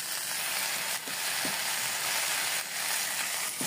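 Ginger paste hits hot oil in a pan while cooking a cauliflower and fish curry, giving a steady, close, loud sizzle and crackle with faint stirring clinks throughout.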